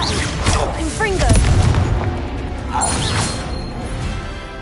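A Confringo blasting spell goes off in Hogwarts Legacy, a loud booming burst with crashing debris layered over game music and voices, then trailing off into a softer rumble.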